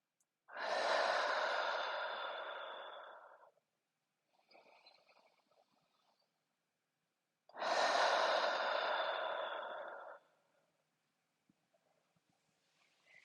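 Two long, slow, audible exhales during a mindful body scan workout, each lasting about three seconds and separated by a quiet pause, close and breathy with faint rustling in between.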